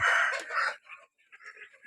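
Chickens and young Burmese-type game fowl chicks at an evening feeding, a loud burst of shrill calling followed by softer, scattered chirps nearby.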